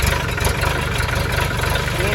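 A diesel engine with glow plugs rumbles loudly and close by, a steady, continuous low drone that fills the whole brief moment without a break.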